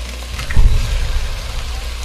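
Eggs hit a hot pan with noodles, adapted from wok cooking, and a loud, steady sizzle and crackle swells near and continues to the end.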